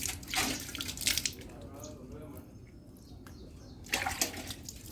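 Water runs and splashes steadily while a cow's udder is washed after milking, a close, continuous gushing with louder surges at the start and end, and someone talks over it.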